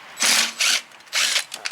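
Ratchet wrench loosening bolts on a 21-inch Toro Super Recycler self-propelled lawn mower, three short bursts of close, crisp clicking with brief gaps.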